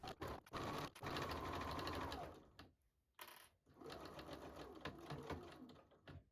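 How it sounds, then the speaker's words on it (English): Sewing machine running a plain straight stitch through the layered fabric of an absorbent drool bib, a fast steady mechanical whir heard in close bursts with a brief stop midway and no talking. "Use a plain straight stitch to sew the layers together."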